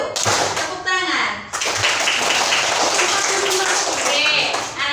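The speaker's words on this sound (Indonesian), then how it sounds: "Tepuk 1, tepuk 1, tepuk 2, tepuk 3, tepuk 1, tepuk tangan." A primary school class claps a patterned rhythm in a classroom, with bursts of hand claps following a teacher's spoken count and children's voices mixing in throughout.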